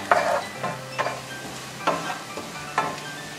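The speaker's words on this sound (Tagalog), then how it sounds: "pwede na po natin isunod ang sibuyas" Onions and browned garlic cooking in a pan for bopis, with a few scraping stir strokes at a steady pace over a soft sizzle, close and moderately loud, no talking.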